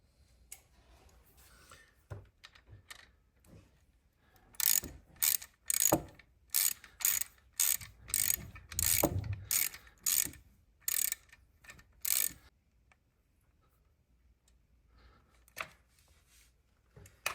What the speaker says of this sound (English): All right, so it's going to be a 3/8 socket.